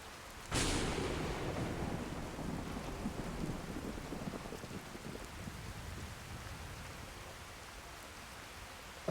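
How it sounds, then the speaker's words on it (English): A sudden loud thunderclap in Skyrim with atmospheric mods rolls into a long rumbling decay over constant rain, slowly fading but still present until the end. "Like that rolling thunder and lightning."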